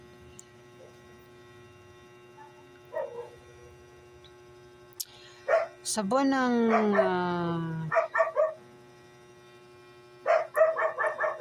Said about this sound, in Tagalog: ingay ng aso tumatahol.